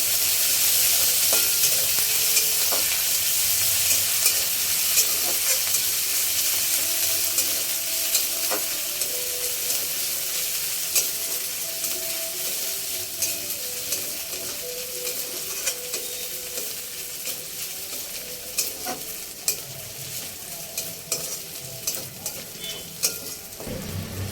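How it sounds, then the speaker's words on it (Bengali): Continuous sizzle of garlic, ginger and green chilli paste frying for aloo chop, with frequent scraping and stirring clicks from a utensil in the pan, steady and close, with no voices. "রসুন বাটা 1/2 চামচ, আদা বাটা 1 চামচ আর কাঁচা লঙ্কা বাটা দিয়ে ভালো করে ভেজে নেব"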